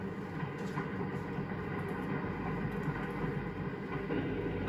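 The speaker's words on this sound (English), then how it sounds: "The huge locomotive sets the train in motion" The Santa Fe Super Chief, drawn by a huge locomotive, rumbles into motion in a dense, continuous roar of rail and engine noise, close and steady throughout.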